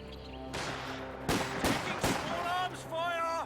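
Gunfire volley in a competitive video game match: several sharp, loud shot bursts in quick succession over a steady background drone, with a tonal game sound near the end.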